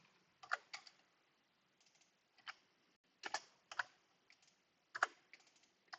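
Computer keyboard keys pressed in a drafting-software practice session, with sharp, near clicks arriving in small clusters and single taps separated by pauses, each group closing on a firmer keystroke; no voices.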